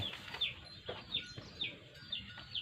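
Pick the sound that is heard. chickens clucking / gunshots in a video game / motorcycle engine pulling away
chickens clucking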